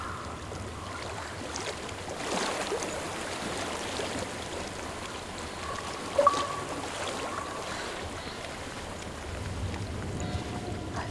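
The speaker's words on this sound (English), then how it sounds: "I hear water." Flowing water in the video game Hellblade: Senua's Sacrifice, a steady broad rush of a stream with soft wind, continuous and moderately near, no voices.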